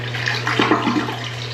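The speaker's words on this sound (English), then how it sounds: "Maybe I just flush this one once and see if we get water dripping." A household toilet flushes once while someone checks it for a leak, giving a steady broadband rush of running water over a constant low electrical hum, close and fairly loud throughout.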